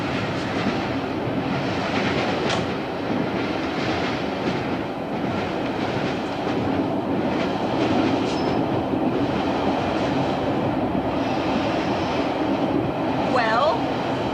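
Train rolling along its rails at steady close range, a continuous rumble with faint clickety-clack and brief wheel squeal, with people talking over it.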